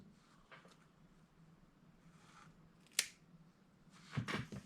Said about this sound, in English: that's probably better to just intentionally trim some bits and snips